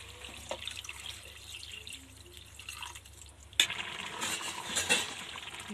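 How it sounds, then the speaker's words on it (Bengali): Water is poured into a pot of bamboo shoots cooking over a wood-fired clay stove, with a sudden close splash and bubbling hiss after a quieter stretch of faint sizzling and drips. "পানিটা দিয়ে দিচ্ছি।"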